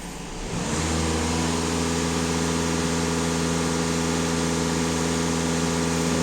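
A VW Passat 2.0 TDI diesel engine goes from quiet to a full-throttle rev within the first second, then holds a loud, steady drone with strong engine harmonics.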